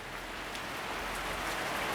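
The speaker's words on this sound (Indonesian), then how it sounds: "beriringan dengan rintik hujan yang membasahi desa Jati" Light rain falls on a village in a steady, soft hiss, with scattered faint droplet taps and no voices.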